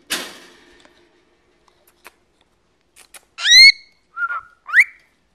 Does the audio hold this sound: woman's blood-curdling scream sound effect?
no